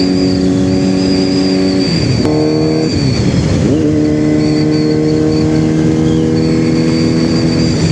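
A QJ SRK450RR motorcycle's exhaust runs loud and close for several seconds, holding a steady buzzing note that dips and climbs once in a brief rev before settling back, with no talking.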